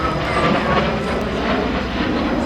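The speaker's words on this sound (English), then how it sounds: "rolling the airplane, same maneuver as he did on the way up, only this time as he descends" Aerobatic airplane engine droning steadily and loudly overhead during an airshow roll maneuver while descending, a continuous broadband roar with no speech.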